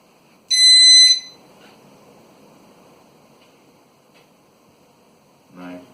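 A Rolson 3-in-1 stud, metal and voltage detector in stud detector mode gives one loud, clear electronic beep lasting about half a second, followed by faint handling noise and a short rustle.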